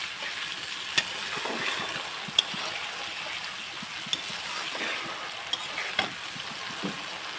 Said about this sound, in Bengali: এবার এটাকে একটু ভালো করে কষিয়ে নেব